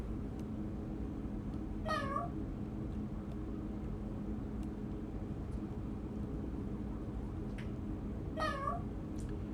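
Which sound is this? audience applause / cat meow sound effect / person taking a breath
cat meow sound effect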